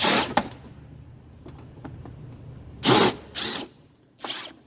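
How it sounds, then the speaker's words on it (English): A power drill with a 5/16 bit whirs in short bursts backing out screws from a beer pump on a draft system: one brief run at the start, then three quick pulses close together near the end, with quiet between. "I just use a power drill."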